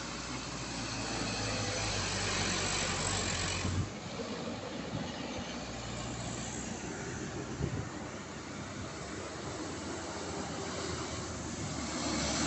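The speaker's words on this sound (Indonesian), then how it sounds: "Ada truk guys, Canter Trondol." Mitsubishi Canter dump truck climbing a steep hill, a steady low engine drone at a distance that drops and shifts partway through before continuing under outdoor wind noise, no speech.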